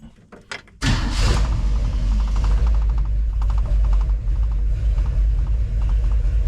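A 1934 Ford coupe engine cranks briefly, then catches and settles into a loud, steady, rumbling idle close by with no talking.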